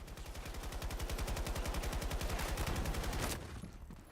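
Rapid automatic gunfire in a video game, a dense loud burst of evenly spaced shots rattling for about three seconds before cutting off abruptly.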